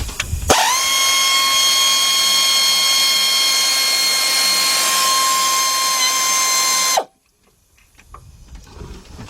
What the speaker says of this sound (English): Let's get our air ratchet.